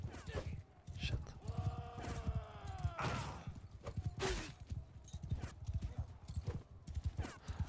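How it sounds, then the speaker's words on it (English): Horse hooves clip-clop steadily at a fast gait in the Bannerlord video game, a continuous rhythmic drumming with a brief neigh mixed in near the start. "Okay, my horse is faster, but still not very fast."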